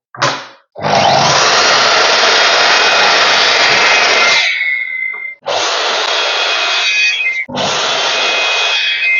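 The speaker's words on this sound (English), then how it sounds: "Let's cut them to length. If you don't have a chop saw, just cut them by hand with the handsaw." Wood cut to length by hand with a handsaw, heard as a close, loud, steady rasp of sawing. A long continuous run of strokes is followed by two shorter bursts after brief pauses.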